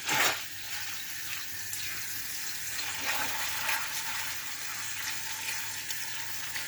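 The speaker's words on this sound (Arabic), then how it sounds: "شايفين الطشه عشان انا مسخنه الزيت الطاسه" Hot oil sizzles in a frying pan while red rice with tomatoes is cooked, opening with a louder burst of hiss that settles into a steady, close crackling.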